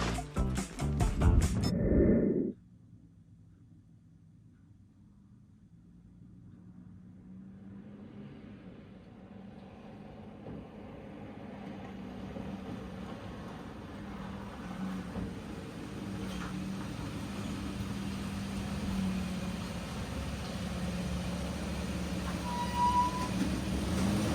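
A second-generation Toyota Tacoma fitted with hood pins drives off after a brief loud burst, its engine and road rumble building gradually into a steady, fairly close drone.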